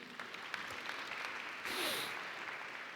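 A quiet room breaks into a short burst of clapping that swells briefly and then fades back to a low murmur.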